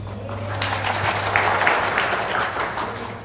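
Applause from a church congregation during a Vietnamese sermon, a steady wash of clapping held for several seconds at moderate level over a low hum.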